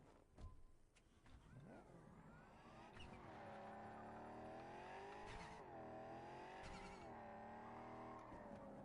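A small hatchback races along in Cyberpunk 2077, its engine note rising and sweeping in pitch as it accelerates, close and steady with occasional clicks and thumps, no talking.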